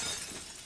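Sharp crackling shatter from the Jujutsu Kaisen anime, a burst of breaking glass-like fragments that fills the short moment and slowly thins out, with no talk.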